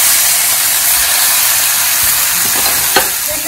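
Chicken pieces drop into a hot pan of softened tomato for a methi chicken curry and sizzle loudly and steadily, with a few stirring clicks near the end.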